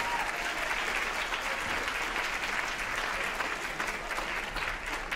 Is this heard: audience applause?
yes